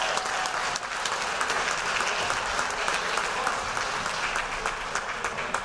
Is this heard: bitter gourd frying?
no